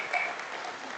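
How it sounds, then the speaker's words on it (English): Applause from an audience at a Sunday feast gathering, a steady dense wash of clapping that holds evenly for about a second with no talk over it. "One big round of applause, please."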